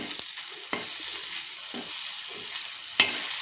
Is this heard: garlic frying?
yes